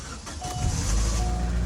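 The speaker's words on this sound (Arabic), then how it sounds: "اول حاجه طبعا بقى نسخن العربيه" A car engine idles to warm up in freezing Russian weather at -14 degrees, a low steady rumble rising slightly, with faint short electronic beeps over it.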